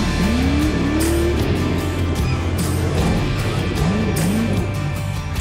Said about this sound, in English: Smart driving puts Brent in third place, right behind his dad.